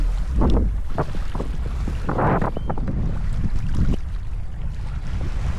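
Wind buffets a boat while fishing off New Zealand, gusting roughly against the microphone over a low, steady rumble with intermittent bursts of noise.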